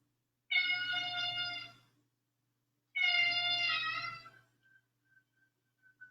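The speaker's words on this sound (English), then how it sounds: "Can you hear my cat?" A pet cat gives two long, drawn-out meows a couple of seconds apart, close and clear in a quiet room, followed by faint small sounds.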